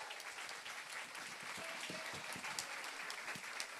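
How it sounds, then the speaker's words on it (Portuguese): A crowd applauds steadily, dense clapping at moderate distance, continuing without a break and no speech over it. "Salva de palmas."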